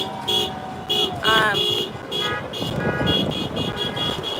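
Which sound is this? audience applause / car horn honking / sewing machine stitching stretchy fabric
car horn honking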